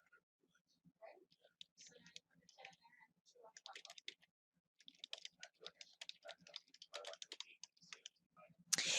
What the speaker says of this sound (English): you could go ahead and type your answer